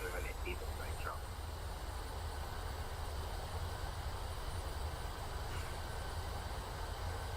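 Steady, loud engine roar from a Southwest Airlines Boeing 737 in a PMDG flight simulator under reverse thrust after landing, a continuous broadband rumble holding level with no pauses.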